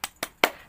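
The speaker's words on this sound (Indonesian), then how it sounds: "Tepuk semangat." Primary school class doing the 'tepuk semangat' rhythmic clap, three sharp, evenly spaced hand claps, close and distinct, the last one loudest.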